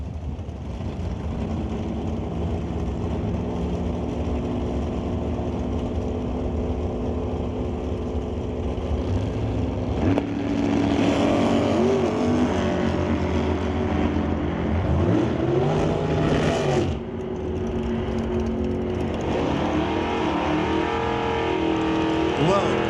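Drag race car engines, including a Malibu wagon and a 1992 Pontiac Firebird, roar and rev loudly throughout, with a high whine building as the cars launch and scream away while an announcer talks over them.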